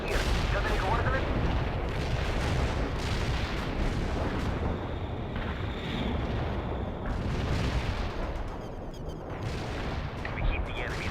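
Artillery fire support strike in the World in Conflict Soviet Assault game, a dense continuous rumble of booming shell impacts and gunfire, loud and unbroken, with radio-style voices talking over it.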